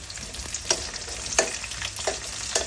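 Pieces of country chicken fry in hot oil with a steady crackling sizzle, broken by four sharp spatula strokes roughly every two-thirds of a second, heard up close with no talking.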